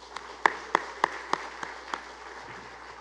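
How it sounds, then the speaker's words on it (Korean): A church congregation claps briefly for the worship team, a handful of sharp, spaced hand claps standing out against a quiet hall before fading into scattered light applause. "우리 홀리스 찬양들에서 박수 한 번만 드리겠습니다"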